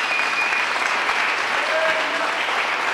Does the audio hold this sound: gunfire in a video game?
no